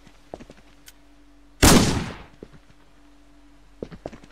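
A single sharp gunshot with a short decaying tail rings out in a Roblox game, set against faint clicks and quiet background with no speech.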